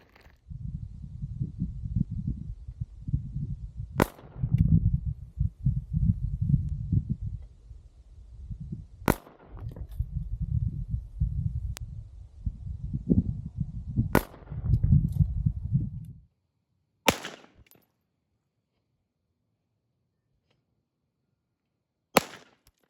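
Kel-Tec P17 pistol firing outdoors: a few sharp, loud single shots spaced several seconds apart over a steady low rumble, then a final isolated crack after a quiet stretch.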